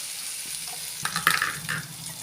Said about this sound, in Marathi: हे बघा थोडंसं पाणी टाकणार आहे मी त्याच्यात. पाणी टाकते.